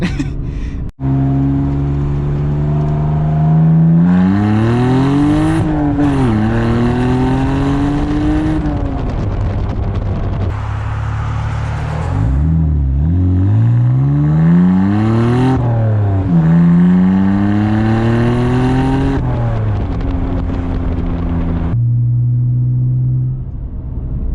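A loud, raw BMW E46 exhaust with the muffler removed revs up and down repeatedly, its droning pitch sweeping higher and falling back, close by.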